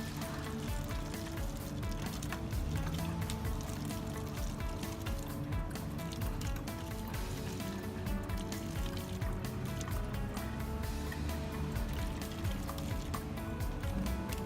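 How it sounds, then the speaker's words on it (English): Water poured into a plastic bottle with a hole cut in its base, a steady close splashing and trickling that continues without a break, with a faint hum underneath. "let me fill the water up to the first level"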